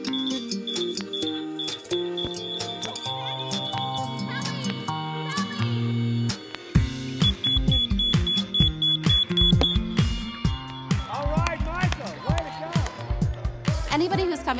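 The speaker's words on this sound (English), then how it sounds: "Today we're doing beep kickball." A beeping kickball rings out in steady repeated electronic tones during a beep kickball game for legally blind players, with voices and bursts of activity breaking in partway through.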